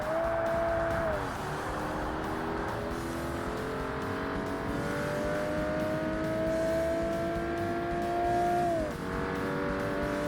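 A Nissan Skyline race car in the Forza Motorsport video game revs hard through its gears, its engine whine climbing steadily with quick dips at each shift, loud and continuous with tire noise beneath.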